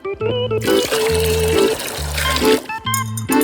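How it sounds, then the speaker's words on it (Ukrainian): Water poured into a bowl of blueberry-flavored jelly mix for a decorated cake, heard as a close, bright trickling pour between short bursts of background music. "Змішуємо желе з водою, перемішуємо"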